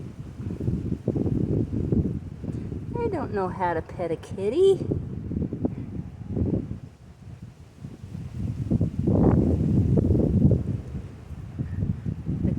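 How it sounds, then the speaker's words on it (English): Wind gusts outdoors and buffets the microphone in a low rumbling roar that swells and fades, loudest near the end, with a person talking over it and a cat's brief chirp. "It's getting really windy."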